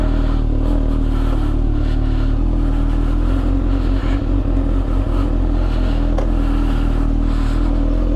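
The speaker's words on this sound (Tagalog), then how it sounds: "kahit yung tunog ng motor ko ang peaceful eh" A Kawasaki ZX6R sport motorcycle engine runs steadily and loud nearby, a dense continuous drone at a lakeshore resort in Balete, Batangas, with no talking over it.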